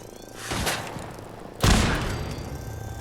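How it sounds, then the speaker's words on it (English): Two heavy shotgun blasts from the Fallout 4 video game, the first dull and muffled, the second a loud, close boom about a second later that rings out and fades slowly. "Are you really shooting a shotgun at me at that range?"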